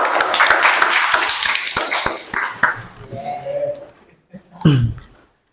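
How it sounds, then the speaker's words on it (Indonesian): Classroom applause for a student group, a burst of scattered hand claps filling the first few seconds before fading, followed by brief voices and a short ringing tone. "Berikan aplaus dulu untuk kelompok 2"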